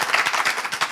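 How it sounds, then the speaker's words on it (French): Audience applause for a contestant at a competitive event, a steady, even patter of many hands clapping close up that fills the whole short moment without voices. "on l'applaudit s'il vous plaît"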